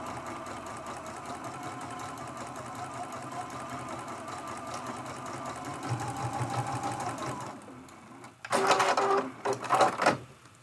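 Sewing machine quilting a teapot mug rug with black thread, a steady close hum of stitching that swells and ends in a few louder, faster bursts.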